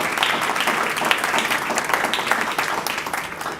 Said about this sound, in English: let's give a little round of applause for that